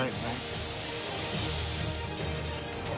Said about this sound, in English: you can hear the sizzle in the pan